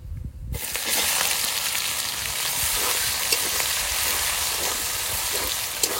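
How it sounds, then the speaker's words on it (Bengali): Chopped onions hit hot oil already seasoned with four bay leaves and a spoon of black cumin, bursting into a loud, steady, close sizzle after a brief silent start. "এবার পেঁয়াজ কুচিগুলো দিয়ে দেবো"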